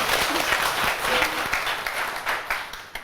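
A lecture audience applauds together in a continuous burst of clapping, steady and fairly loud for a few seconds, with no speech over it.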